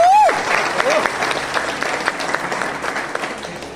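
Loud, dense audience applause fills a crowded Hindi motivational seminar hall, with a sharp rising whistle cutting through at the very start, then steady clapping that holds throughout.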